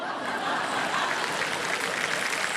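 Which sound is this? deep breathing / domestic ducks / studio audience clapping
studio audience clapping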